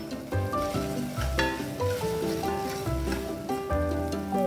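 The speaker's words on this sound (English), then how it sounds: "into the same pan, and I will saute the onions." Onions and garlic sauté in oil in a pan while cooking beef pares, giving a steady close sizzle with occasional stirring scrapes and clinks, no voices.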